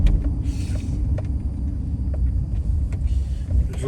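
A car drives through downtown Denver, Colorado, with a steady low engine and road rumble, light wind noise and a few faint clicks in the cabin.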